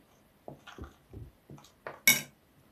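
Dough ingredients of flour and milk being stirred in a bowl, heard as a series of separate knocks and scrapes of a utensil against the bowl, ending in a sharper clink, close and quiet.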